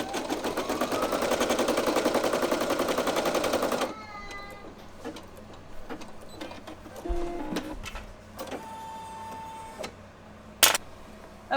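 A Brother PE800 embroidery machine stitching an appliqué onto a T-shirt, loud rapid rhythmic needle chatter for about four seconds before stopping, followed by quieter mechanical clicks and a brief beep.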